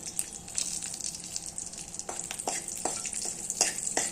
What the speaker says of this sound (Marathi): हिरवी मिरची तळत असताना गॅस कमीच ठेवायचा आहे आपल्याला नाहीतर ती फुटते आणि अंगावर उडण्याची शक्यता असते त्यानंतर आपण जो लसूण घेतलेला आहे तो घालायचा आहे आपल्याला इथे